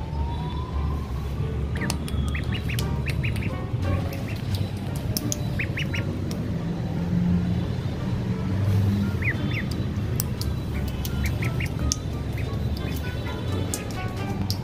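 Ducks squawk and quack in short bursts while being moved to a new pen, scattered calls over a constant low background rumble, moderately near with no talking.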